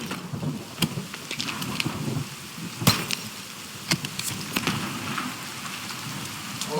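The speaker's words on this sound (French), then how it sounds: "Oh putain, il pleut." Rain falling in the survival video game The Forest, a steady hiss of rainfall on surfaces with scattered sharper drops and taps throughout, moderately loud and alone.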